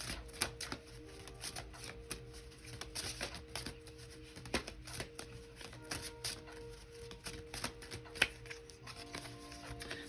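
Tarot cards being shuffled by hand, a run of quick, crisp riffling taps and flicks in uneven bursts, close and fairly quiet, with no talk.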